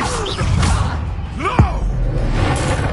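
In Hogwarts Legacy, a wizard's Incendio fire spell whooshes out with a swishing burst and a thud, layered with crackling magical effects and voices in the game.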